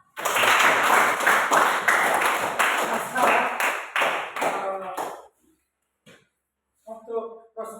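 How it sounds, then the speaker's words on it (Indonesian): A crowd claps steadily for about five seconds, loud and close, then it stops; after a pause a voice starts speaking. "Mari tepuk tangan kita semua."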